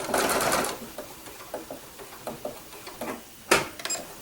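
Sewing machine backstitching a quilt binding: a short run of rapid stitching, then a few soft ticks and clicks, and a final sharp burst near the end.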